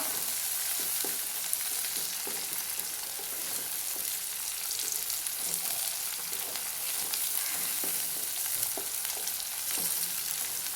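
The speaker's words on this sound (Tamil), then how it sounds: "தக்காளி நல்லா இந்த அளவுக்கு நல்லா வதங்கி வந்துருச்சு பாருங்கள்" Tomatoes, onions and curry leaves sautéing in a pan for an egg pepper masala, a steady moderate sizzle with occasional soft stirring taps, continuous and close.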